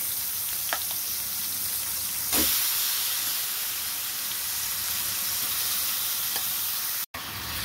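Prawns fry steadily in a pan as banana flower is added, giving a constant loud sizzle with a few brief clatters and a sudden cut near the end.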